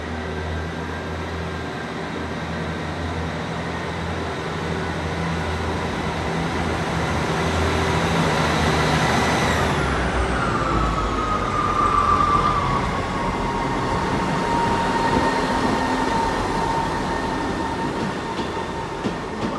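A Class 158 diesel multiple unit train at Exeter St Davids station, its steady engine drone and rolling rumble continuing as the pitch drops partway through, with a brief squeal near the middle, close and moderately loud with no talking.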